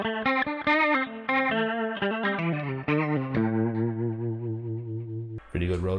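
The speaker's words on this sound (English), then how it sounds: "Pretty good rotary sound." A Keeley Supermod Workstation guitar pedal's rotary speaker effect colours a played guitar line with a swirling, warbling chorus-like modulation, loud and continuous, ending on a sustained chord before a brief strum.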